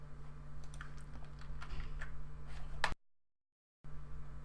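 Quick keystrokes tap on a computer keyboard in a quiet room, a loose run of light clicks over a steady low hum, ending in one sharper key press before the sound cuts out briefly.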